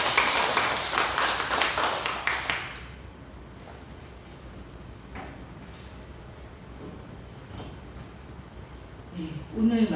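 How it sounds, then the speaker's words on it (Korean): A Korean church congregation at a Sunday afternoon worship service claps in unison for about two and a half seconds. The clapping then stops, leaving a quieter room with occasional knocks and soft movement, and a voice comes in near the end. "박수로 영광."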